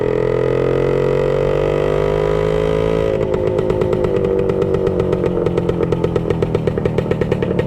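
A 1966 Suzuki Bearcat 120 motorcycle engine drones steadily while ridden, then shifts into a higher gear and settles into a loud, rapid, even two-stroke putter, close and continuous with no talk.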